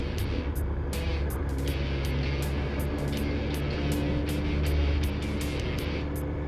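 A 2001 Suzuki GSX-R 1000cc motorcycle engine running steadily at idle, a loud continuous rumble close by with a rapid regular ticking on top, no voices.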